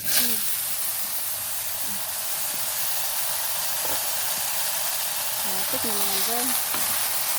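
Crushed garlic fries in a pan with a continuous loud sizzle and hiss. A person speaks briefly over it near the start and end.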